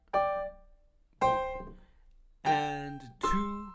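Boogie piano riff played at a beginner pace, four separate struck chords or note groups, the last two closer together, clear and close with no talking.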